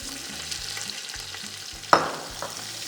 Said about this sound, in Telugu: ఆనియన్ బాగా గోల్డెన్ బ్రౌన్ అయ్యేంత వరకు ఫ్రై చేసుకుందాం.